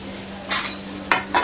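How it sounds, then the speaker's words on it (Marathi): Grated coconut and garlic stirred in hot tempering oil with cumin in a pan, a soft background hiss broken by three short scraping stirs, close and clear, with no speech. "खोबरा लसूण टाकलं ना फोडणीला एकदम छान लागते"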